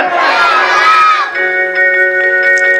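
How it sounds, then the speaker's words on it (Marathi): Crowd at an event honouring war heroes' mothers and wives cheering loudly for about a second, then sustained tonal music continuing with scattered faint crowd noise. "या वीर मातेसाठी आणि वीर पत्नीसाठी जोरदार टाळ्या"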